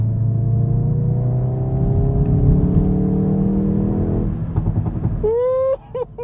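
A Hyundai i30 N engine revs and accelerates with a rising whir, then sharp popping and crackling bursts from the exhaust as it shifts near the end.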